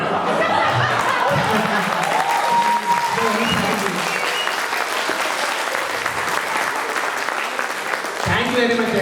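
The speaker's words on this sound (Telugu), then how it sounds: "మీ అందరు చప్పట్లు కొట్టగా" Audience applause at an Ugadi stage performance in Bristol, a long sustained round of clapping with scattered laughter, and a voice speaking at the start and again near the end.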